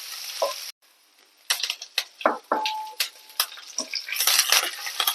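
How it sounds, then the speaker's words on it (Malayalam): Garlic, ginger and green chili sauté in a pan with a sizzling hiss, punctuated by sharp scraping and clinking strokes of a spoon stirring against the metal, in irregular bursts close to the listener. "കുറച്ച് വെച്ചിരിക്കുന്ന വെള്ളുള്ളി, ഇഞ്ചി, പച്ചമുളക് എല്ലാം കൂടെ ഒന്ന് വഴറ്റി കൊടുക്കാം."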